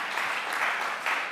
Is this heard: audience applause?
yes